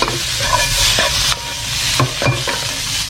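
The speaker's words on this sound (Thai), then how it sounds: "เราก็มาลงเป็นผงกะหรี่ ประมาณ หนึ่งช้อนชา ผัดซ้ำเลยครับ" Blanched vegetables stir-fried with curry powder sizzle loudly and constantly in a pan, with several sharp scraping and tapping strokes from a spatula, close up and without talk.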